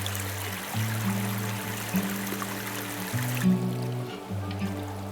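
A cold, clear mountain river flows through Lydford Gorge in Devon, a steady rushing wash of water with a low droning musical tone layered over it.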